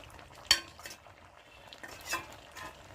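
Soft clinks of a spoon dropping tomatoes into a pan of frying rui fish, one sharp tap followed by quieter scrapes over a faint sizzle, close and brief.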